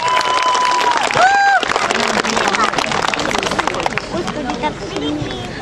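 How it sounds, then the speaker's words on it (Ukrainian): A crowd at an outdoor Constitution Day and Youth Day celebration in Chornukhy, Ukraine, breaks into loud, close applause mixed with cheering and crowd chatter. The clapping gradually thins out toward the end. "Олексій Діброва, оплески!"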